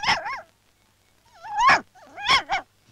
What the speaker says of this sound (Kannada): ಬಂಗ್ಲೆ ತುಂಬಾ ನಾಯಿಗಳಿವೆ.